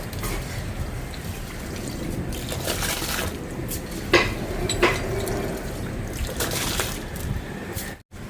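Rice and turmeric powder being stirred in a cooking pot for a lunch for elderly people, with steady scraping and sloshing, a few louder metallic knocks, and continuous background noise throughout.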